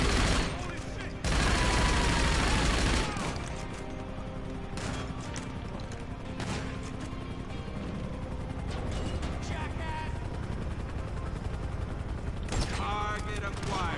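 GTA 5 gunfire, with a dense burst of shots at the start followed by scattered sharp reports and mechanical clatter over a busy, loud game mix, with voices mixed in.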